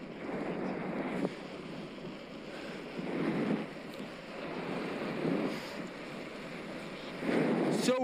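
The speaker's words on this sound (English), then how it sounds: "So windy." Wind buffeting a microphone during a ride on a Specialized Turbo Vado SL e-bike in the Peak District, rushing gusts that swell and ease, with occasional louder blasts.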